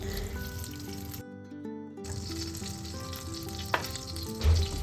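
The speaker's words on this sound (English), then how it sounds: "Fry the sausage slices in this on low flame." Sausage slices frying on low flame in butter and a little oil, a steady close sizzle with a brief gap in the middle, then stirring clatter and a couple of sharper pan knocks near the end; no talking.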